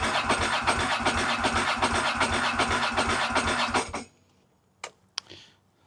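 A motorcycle starter cranks the engine of a bike that runs on one cylinder, with a loud rhythmic whirring churn for about four seconds. Then it cuts out, and two brief clicks follow in the quiet.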